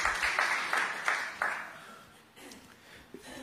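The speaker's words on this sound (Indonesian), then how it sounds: "Bisa tepuk tangan yang gak fales gak sih?" Brief clapping from a church congregation, a few loud, close claps in rhythm that fade out after about a second and a half, followed by quieter room sounds.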